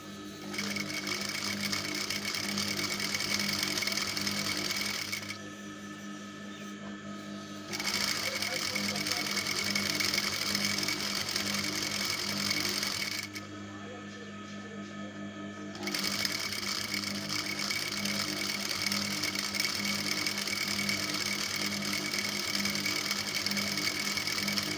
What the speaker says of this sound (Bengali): এভাবে আমি সেলাই দিয়ে নেব।